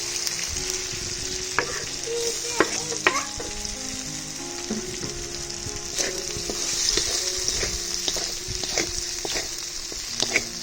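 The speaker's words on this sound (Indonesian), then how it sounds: "Bawang putih ditumis sampai harum." Garlic sautés in a pan for a yellow burrhead stir-fry, a loud, steady close sizzle with occasional scraping and stirring clicks, no talking.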